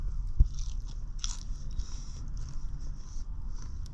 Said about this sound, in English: That crunch. Sounds good.